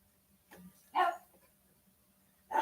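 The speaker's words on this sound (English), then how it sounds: "That dog was barking constantly, by the way." A dog barks in a few separate bursts, one at a time with pauses between them, fairly close and alone with no talk over it.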